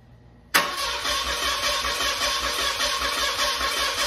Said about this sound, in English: The engine's turning over, so we've got power going everywhere, but it's not starting.